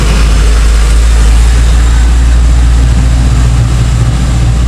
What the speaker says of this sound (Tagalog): Yung truck nga, hirap na hirap oh.